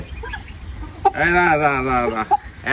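A foreign-breed chicken raised on a home farm gives a loud, drawn-out clucking call nearby, framed by short bumps and a voice talking.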